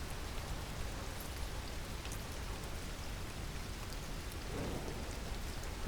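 Steady, close rain pours down without a break, a broad even hiss with faint low rumbles that may be distant thunder, heard alone with no voices.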